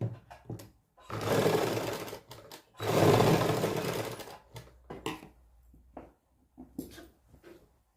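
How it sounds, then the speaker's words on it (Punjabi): A sewing machine stitches a suit seam in two sustained, close bursts of whirring separated by brief pauses, followed by scattered clicks and handling of cloth. "ਇਥੋਂ ਆਪਾਂ ਸਲਾਈ ਲਾਵਾਂਗੇ"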